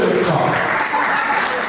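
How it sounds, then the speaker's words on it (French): Audience at a French-language community event launching an ebony tarot deck breaks into steady, dense applause, loud and filling the short stretch, with some voices mixed in. "applaudissez-vous"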